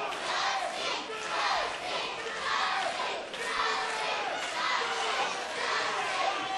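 Sustained cheering and yelling from a packed wrestling crowd at a WAR cage match, loud and continuous with rolling surges, urging Dusty Dillinger on; scattered voices stand out within the din.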